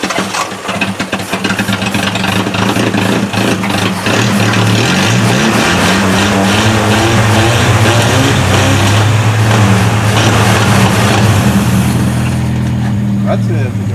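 A 1980 Plymouth Arrow car engine runs steadily and loud throughout, with shifting pitch as it is revved, its rough idle continuing under voices.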